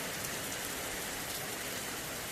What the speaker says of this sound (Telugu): ఇప్పుడు మా శనికాడ వర్షం పడుతుంది